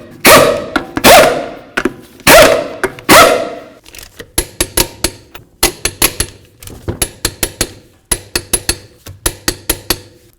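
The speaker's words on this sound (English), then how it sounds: "We'll start on all of our lug nuts, bottom them out" Lug nuts on a 2007-2017 Jeep Compass wheel tightened with a torque wrench, beginning with a few long rattling bursts from an impact tool, then a quick series of sharp metallic clicks and knocks up close, with no one talking.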